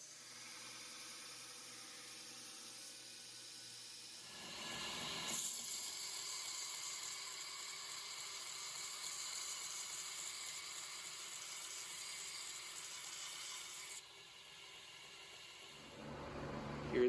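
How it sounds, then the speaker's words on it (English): A belt grinder runs a worn 60 grit ceramic belt against hunting knife bevels, giving a steady, loud abrasive hiss and whir that holds for about ten seconds, then drops back to a quieter motor drone before swelling again. "I like to start using a worn out 60 grit ceramic belt"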